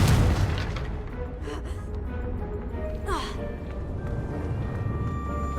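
Confringo fire spell blast in Hogwarts Legacy, a heavy booming burst right at the start that settles into a dense, steady bed of game ambience and effects, with a voice-like sound partway through.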